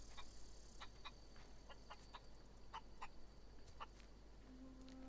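A chicken in the video game The Outer Worlds clucks in short, faint, repeated bursts over a low steady background hum, with no talking.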